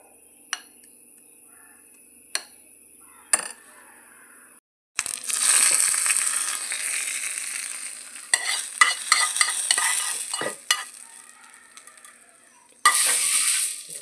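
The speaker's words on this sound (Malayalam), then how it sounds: "നമുക്കിതൊന്ന് വറവിടാം കേട്ടോ" Spices hiss and sizzle loudly as they hit hot oil, tempering a Kerala Onam sadya dish, with a steady crackle and some stirring clatter, after a few quiet clinks.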